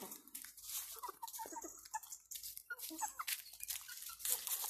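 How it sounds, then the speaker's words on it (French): Farmyard hens clucking and calling while following a person, a busy cluster of short irregular clucks and squawks at close range with no talk. "Alors les poules me suivent à la trace, hein."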